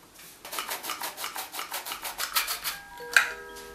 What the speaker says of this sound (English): sift flour